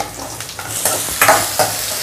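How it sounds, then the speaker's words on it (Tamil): Chopped onion frying in oil, a soft continuous sizzle broken by several stirring scrapes at irregular intervals, close and moderately loud with no talking. "வெங்காயம் நல்லா வதங்கட்டோங்க."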